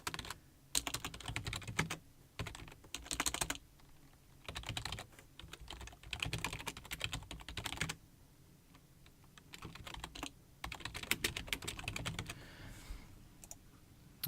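Steady typing on a computer keyboard while filling in a sign-up form, with dense runs of close, crisp keystrokes separated by short quiet pauses.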